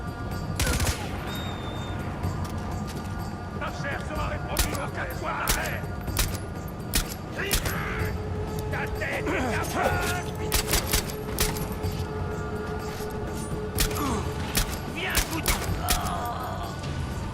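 Pistol gunfire in the video game Far Cry 4 cracks out in sharp, irregular single shots and quick clusters over a game soundtrack, with voices talking in between.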